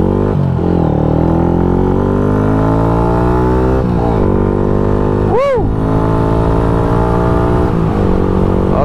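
A newly bought motorcycle's engine revs loudly and steadily, the pitch climbing and falling in repeated sweeps across the clip, with one sharp high whine near the middle as another vehicle passes.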